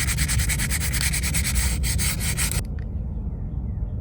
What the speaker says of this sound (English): now that I've got it kind of cleaned up a little bit with that finer grit sandpaper